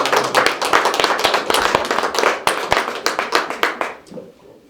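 Clapping from a small audience at a press cocktail in Paris honoring an orchestra, a dense run of close, sharp hand claps that thins and fades out near the end.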